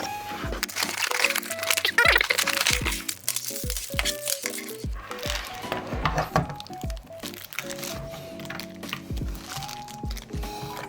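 A product package is opened by hand, with loud close crackling, crinkling and tearing of plastic wrapping throughout, layered over background music.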